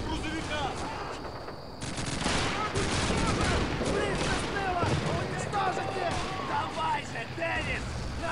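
Sustained gunfire in the World War II shooter Call of Duty 2, dense overlapping shots and bursts rattling almost continuously at high level, with battle noise filling the background.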